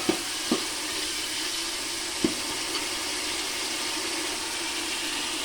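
Onion, fenugreek leaves and mint leaves fry in a pan with a steady even hiss, and a few faint taps of a spoon come at the start and near the middle.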